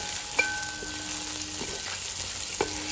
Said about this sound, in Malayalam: അങ്ങനെ കറിവേപ്പില ഇട്ട് ഇതിന് നല്ലപോലെ ഇളക്കി കൊടുക്കണം